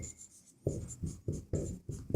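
A pen writes on paper while working a math problem, a close series of short scratchy strokes in quick bursts separated by small pauses, with a faint steady hiss behind and no talking.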